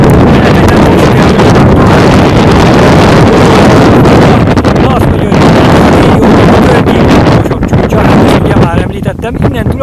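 Strong wind buffets the microphone in a steady, loud roar for the whole stretch, heard on a mountain bike ride in the Košice hills of Slovakia, with a voice faintly under the gusts.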